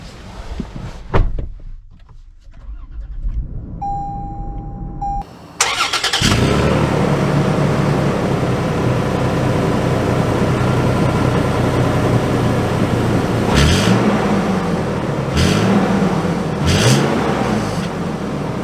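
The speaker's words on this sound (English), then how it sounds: "let's take it out for a drive of sorts" A 2023 Toyota 4Runner TRD Off-Road Premium gives a few clunks and a short chime, then the engine cranks and starts. It settles into a steady idle and pulls away, with engine note swells as it accelerates and shifts while driving.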